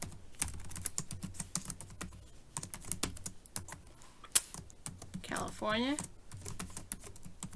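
Rapid clicking of a computer keyboard as entries are typed into an Excel spreadsheet, close and fairly quiet, with bursts of keystrokes broken by short pauses and a single spoken word near the end.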